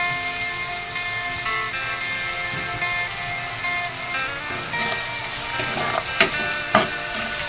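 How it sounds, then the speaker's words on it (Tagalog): Seasoned ground meat sautéing in a pan with pepper, salt and dried fish, a steady close sizzle with scraping stirs and a few sharp clacks near the end, no talking. "Gisa-gisa muna natin ang ating giniling para mag-absorb ang ating mga seasoning."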